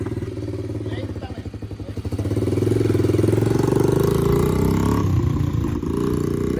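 A small pit bike motorcycle engine idles with a rapid putter, rising to a louder steady run partway through, with a faint clatter over it.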